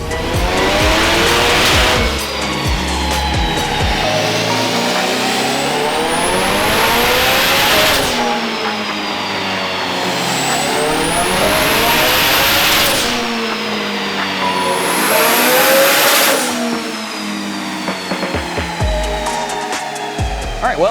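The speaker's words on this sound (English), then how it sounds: "After the first couple pulls, the car is making about 300 horsepower on wastegate pressure." A K-swapped Mazda RX7 running E85 with boost controller doing repeated dyno pulls, engine screaming up through the revs three times with turbo whine rising, loud and close, no talk.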